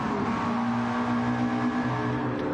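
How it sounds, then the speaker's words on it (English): Race car on hard tyres in a touring car racing game at Brands Hatch, a loud continuous engine drone with a sustained tonal whine shifting in pitch, no talking. "Them hard tyres sound horrible"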